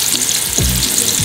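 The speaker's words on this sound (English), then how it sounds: "You can hear it sizzling up." Steady sizzling of turkey meatballs frying in a hot pan, a close, continuous crackle with a few low clanks of a utensil stirring.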